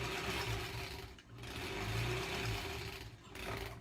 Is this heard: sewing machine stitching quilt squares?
yes